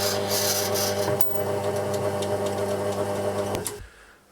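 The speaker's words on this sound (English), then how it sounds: "I'm going to machine them out of brass" A lathe machines brass pillars, a steady loud whirring drone with a hum beneath, one brief knock partway through, then the machine spins down and stops near the end.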